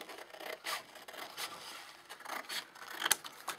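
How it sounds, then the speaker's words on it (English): Scissors cut through card for a napkin-fold greeting card: a quiet run of soft, papery snips and rasps, close by, with a slightly sharper cut near the end. "I'm going to cut it off with my scissors because I haven't got my trimmer"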